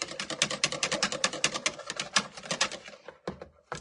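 A wire whisk beats milk into chocolate muffin batter, making a fast, steady run of sharp clicking taps against the bowl that stops abruptly, followed by a couple of isolated knocks.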